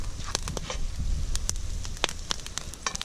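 Pork and onions sautéing in a cast iron Scotch bowl outdoors, a steady crackling sizzle with scattered sharp pops, close and continuous.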